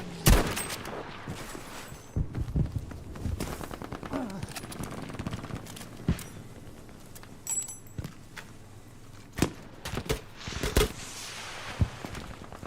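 Bolt-action rifle fire in Battlefield V: sharp, loud shots fired in quick succession with short uneven gaps, alongside other gunfire and faint footsteps in the game.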